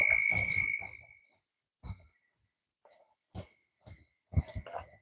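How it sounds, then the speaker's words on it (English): Frogs croak outdoors in short scattered calls, one longer trilling call followed by sparse isolated croaks with silent gaps between them, close and moderately loud. "I don't know if those are frogs that I'm hearing."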